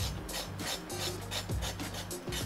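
A knife scrapes the skin off a raw carrot in a home kitchen, giving a steady series of short, rhythmic rasping strokes, close and fairly quiet, with no talking.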